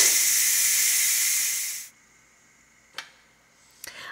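Steam hissing loudly and steadily from a pressure cooker's release valve for nearly two seconds before cutting off abruptly, followed by quiet and a couple of small clicks.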